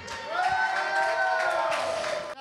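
Audience at an open mic show applauding and cheering for a performer, a steady wash of clapping and whoops with a held tonal note running through it, ending abruptly.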